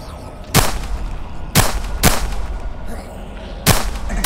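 Gunfire in a zombie shooter video game: four sharp, loud shots at irregular intervals over a steady background hum.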